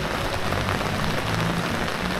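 Steady rain pours over a village in the Dieng highlands, a dense, even hiss of drops on surfaces that stays constant and fairly close throughout, with no voices.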